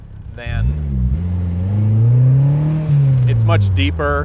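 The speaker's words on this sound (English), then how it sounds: "The exhaust I don't think is overly loud and obnoxious. The note is really nice. It's much deeper" A turbocharged car engine revs up with a deep, throaty exhaust note that rises and falls, while a person talks briefly over it.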